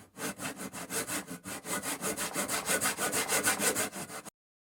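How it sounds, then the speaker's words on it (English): A hand saw cuts a stacked pair of wooden purfling strips in a miter box for guitar binding, with steady rhythmic back-and-forth strokes, close and loud, then stopping suddenly. "I'll stack the pair of purflings so that their ends will be cut at 45 degrees in a miter box."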